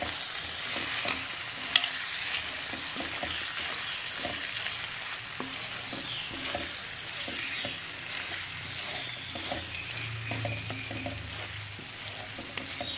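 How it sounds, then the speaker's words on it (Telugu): Snail curry being stirred in a pot with soaked chana dal nearby: a steady low sizzle of frying runs throughout, with soft, irregular scraping of a spoon against the pot and a few small clinks, alone without speech. "సో వీటిని అన్నిటిని వేసుకుని కలుపుకుంటున్నాను"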